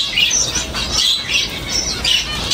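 Caged munias and Gouldian finches kept for breeding give a steady stream of small bright chirps and squeaky calls that overlap throughout, fairly close and lively, with no talking.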